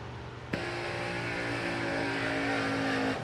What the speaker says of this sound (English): That's how you do a burnout.